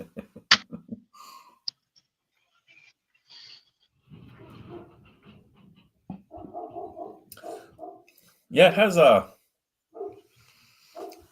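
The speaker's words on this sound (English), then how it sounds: "Yeah, I can hear your dog." During a casual beer-review hangout, a dog barks a few times: quick yaps near the start, then a louder, harsher burst later, with people chatting in between.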